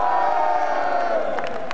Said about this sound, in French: le préparateur physique mérite aussi son ovation